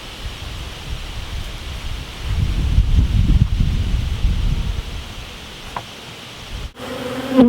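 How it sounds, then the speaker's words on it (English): Honey bees buzz steadily around an open top bar hive during a honey harvest, a dense continuous hum swelling in the middle, with a brief brushing knock near the end. "a new paintbrush to try to gently sweep the bees off of the bar and back into the hive"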